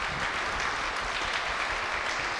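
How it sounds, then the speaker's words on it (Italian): Steady clapping from players at a biathlon table match, a continuous patter of applause that is moderately loud and even throughout, with no speech over it. "Guarda che bello l'applauso anche di Nguyen"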